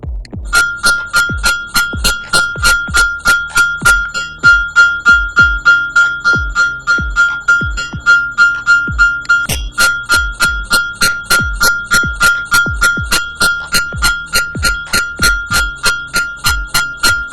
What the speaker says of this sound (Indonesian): Bel listrik.